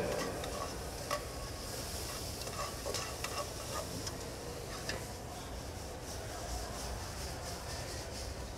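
Green onion and diced seeded tomato sauté in a hot pan, giving a steady broadband sizzle with occasional stirring scrapes throughout, close and moderately loud, no talking.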